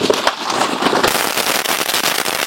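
Sivakasi firecrackers are test fired outdoors, a rapid crackling burst of sharp pops and snaps, loud and close, with no talk.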